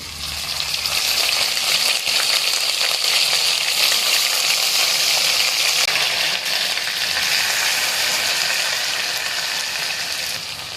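Whole garam masala, bay leaf and ginger-garlic paste fry in hot oil for hilsa biryani, a loud, steady close-up sizzle that continues without a break.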